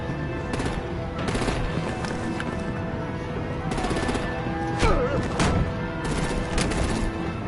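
Automatic gunfire in the video game Batman: Enemy Within, with steady rattling bursts throughout and a few sharper, louder shots standing out near the end.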